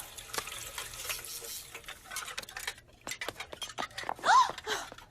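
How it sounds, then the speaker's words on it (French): Dishes being washed in a home kitchen: crockery clinks and rattles and cutlery taps in quick irregular knocks, with running-water hiss and a sharp squeak near the end, fairly close by. "C'est gentil de faire la vaisselle."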